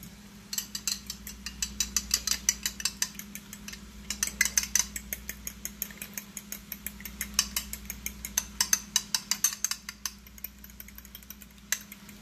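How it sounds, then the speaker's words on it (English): Grandma's whisk beats eggs in a bowl for chorizo carbonara, making a rapid, steady run of close metallic clicks and scrapes. The whisking goes on almost without a break under a low background hum. "Now I'm going to take grandma's whisk and we're going to whisk these eggs"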